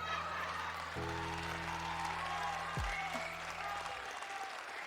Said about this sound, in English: clap for me, everyone.